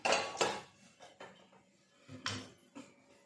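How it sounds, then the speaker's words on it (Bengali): Soaked soybean chunks being chopped on a board for pakoras, a few sharp knife strikes spaced irregularly, close and fairly clear with quiet gaps between. "এবার সয়াবিনটা কুচি করে নেব।"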